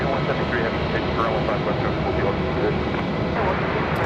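JetBlue Airbus A220 airliner taking off at Raleigh-Durham International Airport, a loud, steady broadband jet roar filling the whole stretch without letup.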